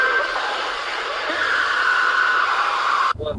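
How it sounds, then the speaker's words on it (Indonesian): A death scream sound file from a Minecraft creepypasta plays as a harsh, distorted, sustained shriek with a noisy rasp for about three seconds, then cuts off abruptly into a brief low thump. "file bertuliskan deathscream.mp3 yang bunyinya seperti ini."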